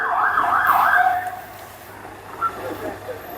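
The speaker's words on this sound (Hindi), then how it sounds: "एम्बुलेंस ही एम्बुलेंस नजर आएंगी आप" An ambulance siren wails in Israel during an Iranian missile attack, one loud warbling sweep up close that then fades under street noise and a few faint voices.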